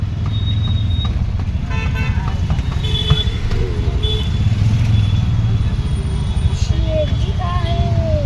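A road traffic jam in Khopoli town, heard from a moving auto-rickshaw, with a steady close engine rumble, dense traffic noise and several horn toots scattered throughout, with a few voices in the mix.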